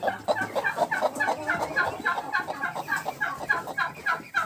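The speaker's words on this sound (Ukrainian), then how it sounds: "а тут це ж у мене квочка сидить" A broody hen in a backyard poultry yard gives close, loud, steady clucking, a rhythmic run of short throaty calls repeated without pause.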